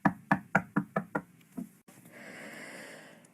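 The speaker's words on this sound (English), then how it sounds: "That when I heard it, a knock on the door." Seven sharp knocks on a door in the horror video game Tell Tale Heart land in a slowing, uneven rhythm, each close and loud, followed by a low, spreading ambient rumble.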